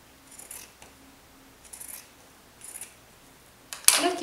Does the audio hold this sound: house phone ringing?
no